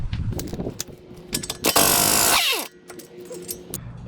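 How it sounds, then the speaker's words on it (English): A ratchet with a 32mm socket clicks in quick bursts while removing the axle nut on a 2010 Subaru Outback, with a loud sustained mechanical rush midway before the clicking resumes. "So I'm going to be removing this axle nut."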